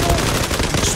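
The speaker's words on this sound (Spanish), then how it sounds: "Disparo" Gunfire in the online shooter game Zula comes as a loud, dense, continuous burst of rapid shots that fills the whole second.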